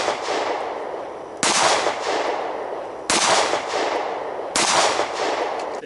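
A Remington R51 pistol fires 9mm FMJ rounds, three loud sharp shots spaced about a second and a half apart, each followed by a short ringing decay.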